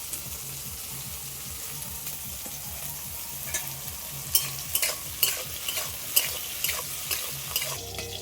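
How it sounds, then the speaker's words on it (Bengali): Steady oil sizzle as capsicum fries, with a spatula stirring and scraping in the pan, later joined by sharper clinks and taps of utensils; no talking. "আগে ক্যাপসিকামটা ভেজে নেব"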